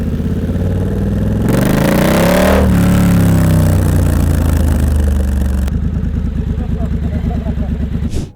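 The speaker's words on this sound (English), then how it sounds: "running an aftermarket exhaust like I am, the sound is half the experience" A motorcycle with an aftermarket exhaust revs up hard from a deep idle and rises to a loud, throaty peak, then settles back into a close, burbling, popping idle.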